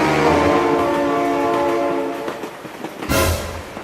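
In the BeamNG video game, a train rumbles past with a loud sustained horn blast that cuts off, followed by a burst of rolling wheel noise and clatter, near and loud.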